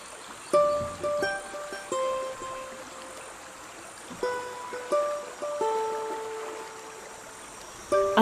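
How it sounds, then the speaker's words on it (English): A gorgeous river in Gabon flows steadily while someone washes in it. Soft, broad water noise runs throughout, with repeated gentle splashes and pours. High bird calls chirp over the water, and no one speaks. "I'm having a wash in this gorgeous river"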